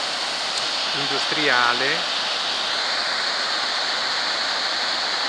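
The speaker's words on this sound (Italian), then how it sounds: "da questo lato la visione di quest'acqua che scende" Water pouring down a mill stream channel near a mill in Cortale, Reana del Rojale, a steady, loud, broad rush that runs throughout while someone speaks briefly near the start.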